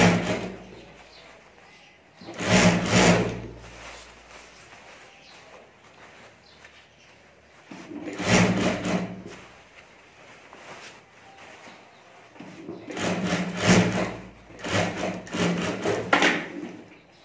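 Sewing machine stitching the seams of a fabric potli bag in three separate bursts of rapid mechanical chatter, each lasting about a second or two, with quiet pauses between.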